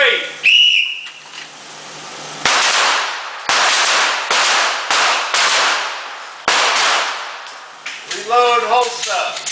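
Shooting range drill: a sharp whistle blast, then a rapid series of loud, close gunshots in uneven bursts, with another whistle and voices sounding near the end.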